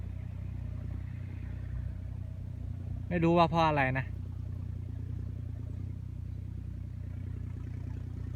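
A John Deere 5065E tractor's three-cylinder diesel idles with a steady low rumble and hum throughout, turbo inaudible, while someone briefly speaks over it near the middle.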